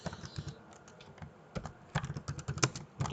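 Quick bursts of key clicks as a title is typed on a computer keyboard, irregular rhythm with clusters of taps, close and fairly quiet.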